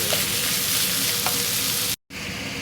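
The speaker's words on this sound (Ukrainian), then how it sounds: "Додаємо фарш. Перемішуємо." Minced meat fries with onion and pepper in a pan, giving a dense, close sizzle with stirring scrapes, broken by a brief gap of silence near the end.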